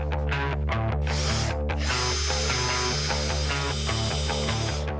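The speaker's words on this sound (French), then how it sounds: "Et on va percer 4 trous." A power drill bores four holes into an industrial-style furniture piece, with a loud close whine revving in short bursts, a brief pause between holes and a longer sustained run, with no voices.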